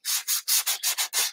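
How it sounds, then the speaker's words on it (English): Hand sanding of a small wooden craft piece, six or seven brisk rasping strokes in an uneven rhythm, close and clear with no talking. "So I'm just sanding it down a little bit"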